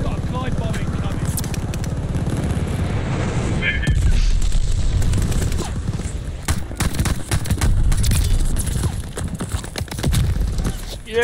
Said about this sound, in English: Enemy's got a glide bombing coming